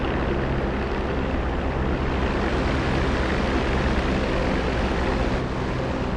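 Steady, loud droning roar of a P-47 D30 Thunderbolt piston propeller engine in the DCS flight game, a broad constant rumble with no breaks or talk.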